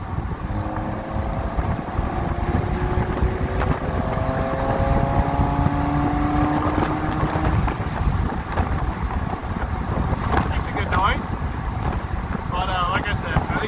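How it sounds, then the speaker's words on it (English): A loud BMW Z3 engine roars and rises in pitch as it accelerates at full throttle, intake noise prominent, with heavy rushing wind noise buffeting the microphone throughout. "When you get on it with the intake noise."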